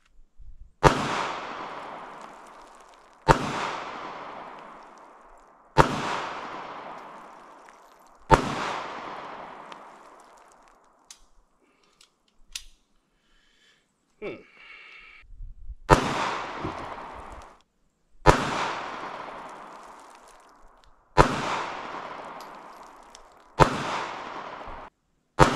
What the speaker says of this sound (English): we're going to shoot these water bottles sitting here.